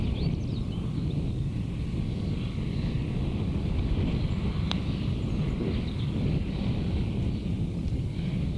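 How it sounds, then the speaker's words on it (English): Strong gale-force wind roars steadily across an exposed Cornish golf course, a continuous heavy rumble buffeting the microphone throughout with no speech. "That wind's not good now either."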